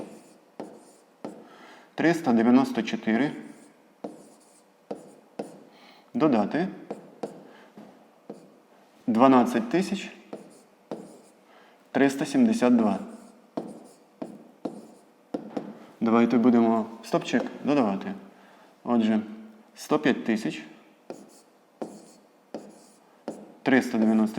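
Pen scratching numbers onto paper during a fifth-grade math exercise, soft bursts of writing that come and go under a voice explaining steadily throughout.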